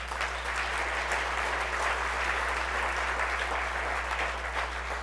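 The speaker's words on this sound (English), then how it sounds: "Give Poetry and Sister Maya a round of applause" A keynote audience at an MLK breakfast in Washington, D.C. claps steadily throughout, a dense, even wash of applause with a low hum beneath.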